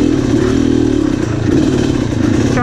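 A BRC 500 enduro dirt bike engine runs loud and close on a trail, holding a steady rough drone with clattering mechanical noise throughout, with no clear rev peaks.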